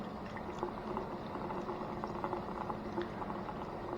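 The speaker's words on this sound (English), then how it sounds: "Maybe if I pour slower, it won't leak out of that yet." Gasoline is poured into a leaking fuel tank on an old Chevrolet C10 pickup, giving a steady bubbling, gurgling liquid pour at close range with small irregular splashes and no talk.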